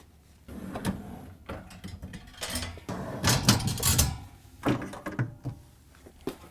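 Shelf rails being pulled out and baskets lifted from a GE refrigerator, giving a run of hollow plastic thunks, knocks and sliding clatters at close range, with no talking.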